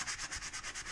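Hand sanding of excess putty on a wall makes a rhythmic back-and-forth rasping, about eight even strokes in a second, close and moderately loud with no talk.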